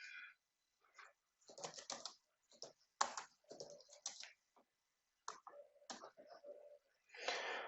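Computer keyboard typing at a networking command line, in irregular bursts of crisp clicks with short silent gaps and one sharper keystroke near the middle; quiet, close and alone, with no voices.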